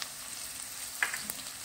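Onions and frozen sweet pepper fry quietly in a pan, a faint steady sizzle with one or two small utensil clinks near the middle, no voices.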